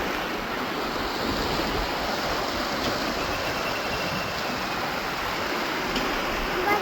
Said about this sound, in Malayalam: വെള്ളത്തിൻ്റെ സൗണ്ട് നിങ്ങൾ കേട്ടല്ലോ അല്ലേ?